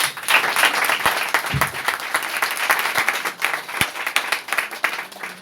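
Church congregation bursting into applause, loud, sustained clapping from many people close by, filling the space evenly throughout with no one speaking.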